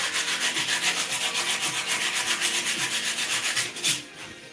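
Steady rough scraping and rubbing on a rusty truck receiver hitch in a garage, a close, continuous grinding rasp with rhythmic pulses that cuts off near the end.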